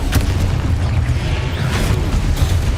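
A deep, rumbling explosion from a Confringo spell in the video game Hogwarts Legacy booms loudly and steadily for a few seconds.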